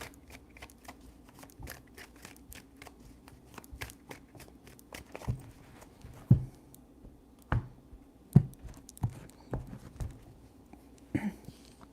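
Tarot cards are shuffled up close in quick, soft riffling bursts and sharp taps, with several louder slaps of the deck scattered through an otherwise quiet room.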